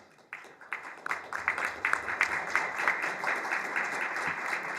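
A crowd at a NASA event breaks into applause that swells quickly and holds steady as a dense wash of clapping.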